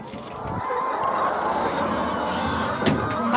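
Flock of farm chickens waiting for feed, a dense continuous clucking and squawking chorus close by, with a couple of louder knocks near the end.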